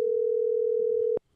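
A telephone dial tone holds steady and loud for just over a second while a call is being placed, then cuts off abruptly with a click.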